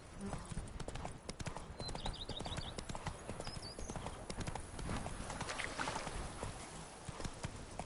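Roach, the horse in The Witcher 3 video game, trots along with a rapid, steady clip-clop of hooves, fairly faint and continuous, with a brief snort or whinny partway through.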